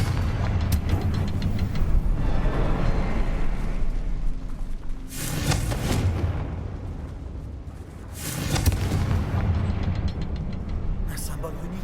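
Explosive spell blasts in Hogwarts Legacy, with rumbling booms that swell and burst twice over loud game ambience, and voices talking through the action.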